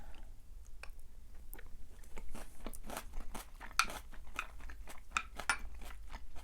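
Someone bites into and chews food with jalapenos, making close, crunchy, wet chewing sounds in a steady run of bites with no talking.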